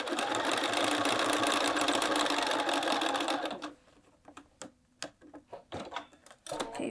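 A sewing machine stitches the side seam of a thick quilted jacket with a loud, fast continuous whir for several seconds, then stops and leaves scattered quieter ticks and handling clicks.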